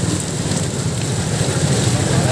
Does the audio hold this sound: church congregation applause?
no